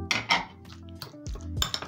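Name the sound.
mixing mashed avocado with tomatoes and onion in a bowl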